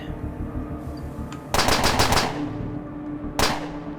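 Submachine gun fire in the video game Underrail: a rapid, loud burst of shots, then after a pause a second shorter burst, over a low game ambience.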